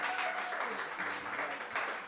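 A concert crowd claps at The Cooperage Project, a full, even wash of applause that holds steady for about two seconds.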